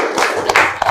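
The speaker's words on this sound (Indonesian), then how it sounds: "Tepuk tangan." Students in a junior high Indonesian-language classroom break into brief clapping, a short loud burst of a few hand claps close by, over in under a second.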